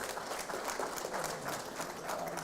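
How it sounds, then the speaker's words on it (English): Steady applause from an audience at a school examination results ceremony honouring learners, a continuous patter of many hands at moderate loudness with no voices. "Let us give a round of applause to all the learners for their hard work."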